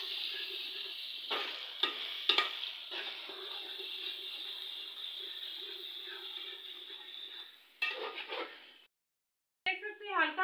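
Chopped onions frying in a pan for an egg and bitter gourd dish, a steady close sizzle with occasional stirring scrapes, then a brief silence and a fresh crackle at the end.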